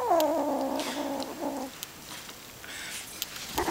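A kitten gives a short, rising-and-falling mew lasting about a second and a half, close and fairly clear, followed by quiet room noise and a few faint rustles.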